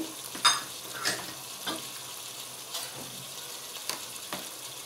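Tomato paste and red bell pepper sizzling and frying with spices for a shahi chickpea curry, a soft continuous crackle broken by several sharp stirring scrapes.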